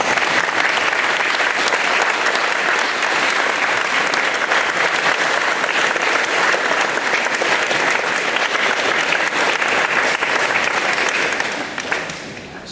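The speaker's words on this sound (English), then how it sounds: "A round of applause for your parents who've done so much for you." Students at a middle school closing ceremony stand and applaud their parents, a loud, sustained wash of clapping from a large crowd that holds steady for around twelve seconds before tapering off at the end.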